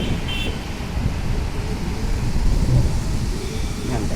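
Steady rain falls over a garden of budding flowering plants during the rainy season, a continuous broadband wash with a low rumble and gusts of wind, with no voices over it.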